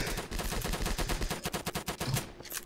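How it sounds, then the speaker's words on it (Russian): Machine gun fire in the Roblox D-Day game, rapid rattling bursts of automatic shots coming in quick succession, fairly quiet and with a brief pause near the end. "по мне чисто два пулеметчика шмаляют"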